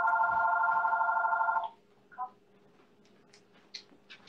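A landline telephone rings in the background with a steady electronic trill for about a second and a half, then stops, followed by a brief faint chirp and a few soft clicks in an otherwise quiet room.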